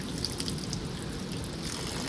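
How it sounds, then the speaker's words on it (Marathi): Rainy-season water flows through a pipe and channel in a farm field. The rushing and trickling is continuous and fairly close, with no talking. "मला ना लई जोर जोरात पाण्याचा आवाज येत होता."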